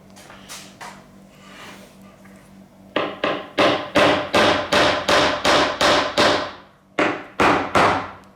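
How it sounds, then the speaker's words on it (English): A hammer bashes old screws out of parts from an 1865 Forster & Andrews pipe organ being restored, a few scattered taps first, then a steady run of loud, sharp metallic blows roughly twice a second with one short pause. "what we're going to try and do is to bash those screws out"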